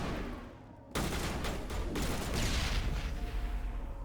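A grenade going off in Mass Effect Legendary Edition, a sudden loud blast that cuts in sharply after a quiet moment and is followed by a sustained roar of gunfire and debris.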